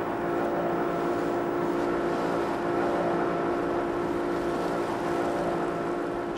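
A motorized canoe's outboard engine hums steadily and fairly loud on open water over a coral reef near Tahiti, a constant droning throb with no talk as the boat eases its speed.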